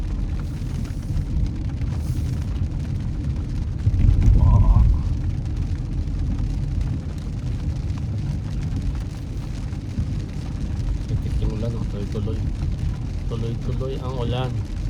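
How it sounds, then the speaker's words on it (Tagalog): Steady rain drums on a car as it drives home through a wet evening, a constant hiss over low road and engine rumble, with a brief louder thump partway through and faint background sounds. "Tuloy ang ulan."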